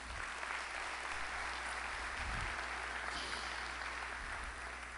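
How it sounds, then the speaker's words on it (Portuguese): A lecture audience applauding in a hall at a talk held at Uningá, a sustained even wash of clapping from many hands throughout, loud and continuous, with no talk over it. "Então uma salva de palmas para a Uningá."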